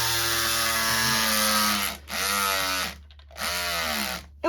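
A battery-powered cutting tool used on quilt fabric whirs in loud bursts, its steady motor tone sagging and cutting out between pulses as the battery runs low, three strained runs separated by short gaps.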